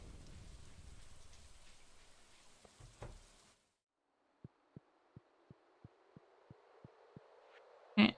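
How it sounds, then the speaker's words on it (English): A soft, even rain hiss runs for a few seconds and cuts out, followed by a string of evenly spaced quiet clicks and a sudden burst at the end. "I like the rain sound, though. It's a good rain sound."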